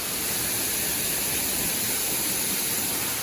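Steady, dense rush of a waterfall at a railway stop in Kanchanaburi, Thailand, a continuous hiss of falling water close by with no other sounds.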